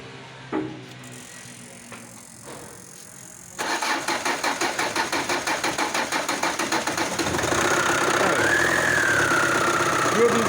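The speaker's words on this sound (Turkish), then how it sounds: "aracımızı bir çalıştıralım" Car engine cranking with rapid rhythmic starter pulses after the engine ECU is reconnected, then catching and settling into a steady idle, preceded by a few clicks and handling noises.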